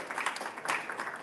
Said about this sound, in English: So you're gonna just clap forever, all right?